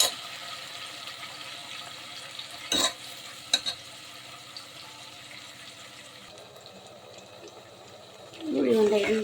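Onions fry in hot oil with whole spices and mint while being stirred, a continuous low sizzle marked by a few sharp scrapes and clinks, rising into louder bubbling sputters near the end.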